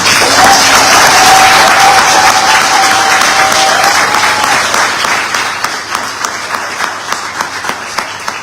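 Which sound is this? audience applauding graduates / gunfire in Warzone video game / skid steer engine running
audience applauding graduates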